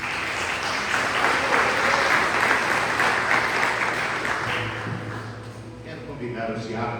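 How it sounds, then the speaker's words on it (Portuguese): A church congregation applauds during an evening worship service, a dense burst of clapping that gradually thins and fades, with voices and a low murmur rising toward the end. "Você pode aplaudir Jesus"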